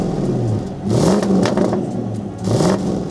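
A Land Rover Defender 110 V8 engine revs in short throttle blips, rising twice to a deeper roar with a quieter idle between, close by and heard alone without speech.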